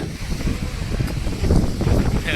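Strong gusting wind buffets the microphone near a Rama temple, a loud rumbling roar that surges and swells throughout.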